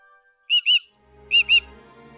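Cheep Cheep, a bird character in the video game The Book of Unwritten Tales 2, gives two quick paired squawking chirps, loud and close, with a short pause between the pairs over faint background music.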